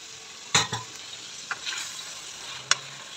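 Mutton being fried and stirred in a pot for Kashmiri yakhni, a quiet steady sizzle broken by a few sharp spoon scrapes and clinks against the pot, no voices.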